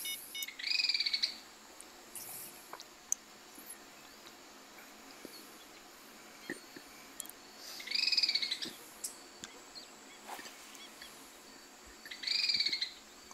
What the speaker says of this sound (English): Some seriously strange sounding birds.